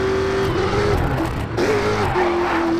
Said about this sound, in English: the sound of a roaring engine and the tire screechings.